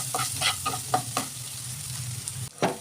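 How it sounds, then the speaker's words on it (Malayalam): Chopped tomato and coriander leaves frying in a pan and being stirred, with a continuous close sizzle broken by repeated scraping strokes of a spatula. "നമ്മൾ ചെറുതാക്കി കട്ട് ചെയ്ത് വെച്ച മല്ലിയിലും തക്കാളിയും ഇതിലേക്ക് ചേർത്തിട്ട് നല്ലതുപോലെ മിക്സ് ചെയ്തെടുക്കാം"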